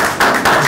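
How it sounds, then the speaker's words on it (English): Brief clapping from an audience at a Nairobi investment event, a few loud, close hand claps in quick succession within under a second. "So let's just give Patrick, I think we should clap there."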